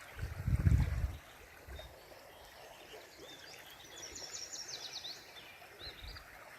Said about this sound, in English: a fish just jumped up here. I just heard something splash.